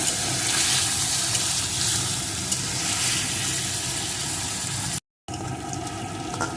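Paneer cubes, soaked first in warm salted water, frying in hot oil until reddish-brown, a steady broadband sizzle holding close and even throughout with no talk, broken by a brief silent gap near the end before the crackling resumes.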